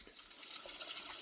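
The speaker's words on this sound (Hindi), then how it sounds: "बर्ड बाथ में पानी चालू कर दिया है" Water runs steadily into an unplastered brick bird bath, a soft, even rushing flow that is faint and brief.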